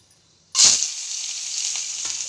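Sliced onions dropped into hot oil with cinnamon, cloves and cardamom burst into a sudden bright sizzle, then settle into a steady, close frying hiss.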